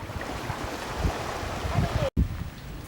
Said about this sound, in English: This is Collins Beach, just near the waterfall.